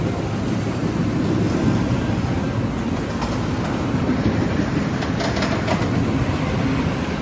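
A theme park train rolls slowly along its rails, producing a steady, moderately loud rumble with faint clacking and no voices.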